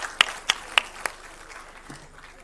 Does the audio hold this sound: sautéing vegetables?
no